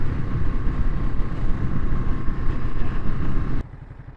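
A 2022 Ducati Monster being ridden, with a loud, continuous engine and wind roar up close that holds steady, then drops off abruptly just before the end.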